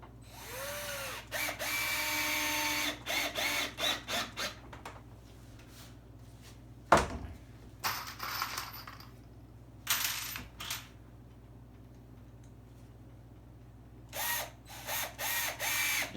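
A power drill drives deck screws into wood in several bursts of buzzing, ratcheting whir, with a sharp knock in the middle and quiet gaps between the runs of drilling.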